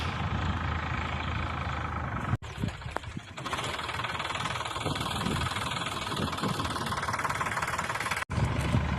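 A heavy diesel tractor engine chugs steadily and loudly close by, idling and rumbling without pause apart from two brief cuts.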